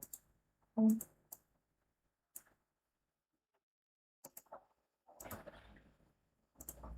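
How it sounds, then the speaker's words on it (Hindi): Scattered sharp clicks of a computer mouse button ring out close and quiet, several isolated taps followed by a short burst of clicks and rustling against near silence. "माउस का लेफ्ट बटन क्लिक करके आप सब पूरा सिलेक्ट कर लीजिए।"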